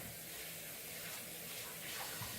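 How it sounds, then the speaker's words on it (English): Tap water runs steadily as hands are washed beneath it, a soft continuous splashing hiss at moderate level with no speech. "now let me wash my hands"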